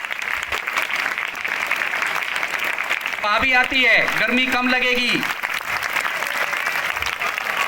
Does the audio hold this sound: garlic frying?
no